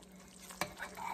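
A spoon stirs beans in a crockpot, giving a soft scraping swirl with one brief louder clink near the middle, close and quiet against a low steady hum.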